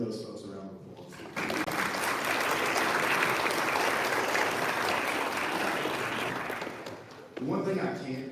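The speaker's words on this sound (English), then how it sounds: "Give those folks a round of applause." An athletic banquet and signing ceremony audience breaks into loud, sustained crowd applause after a short stretch of speech, and talking resumes as the clapping dies away.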